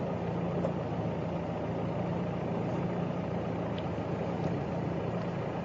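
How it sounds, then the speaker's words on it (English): A vehicle engine idling in first gear, low range, with no throttle, giving a steady continuous low rumble that stays even and unbroken throughout, close by and moderately loud. "This is first gear, low range, idling speed."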